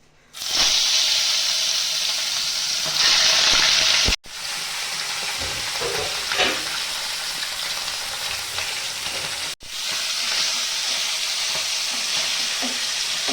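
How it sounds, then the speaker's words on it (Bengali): Loud continuous sizzling of bata fish frying in hot mustard oil, with brief breaks and a few stirring clinks. "তো তেলটা গরম হয়ে গেছে, আমি মাছটা ভেজে নেব।"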